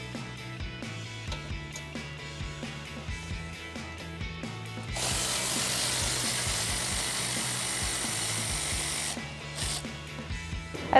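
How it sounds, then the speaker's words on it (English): A ratchet with a 12mm socket backing out the middle bolts that hold a 2016-2023 Toyota Tacoma rear bumper to the hitch assembly, with quick repeated clicking and then a steady grinding whirr, close and with no talk. "we can remove the two bolts that are in the middle, holding our bumper onto the hitch assembly here"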